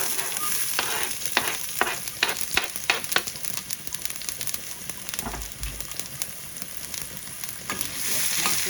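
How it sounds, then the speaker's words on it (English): Shallots fry in hot oil for a Kerala-style duck curry, giving a continuous close sizzle. Sharp pops and spluttering crackles are denser early on and then ease into a steady hiss. "Once it starts to splutter, let's also add the shallots."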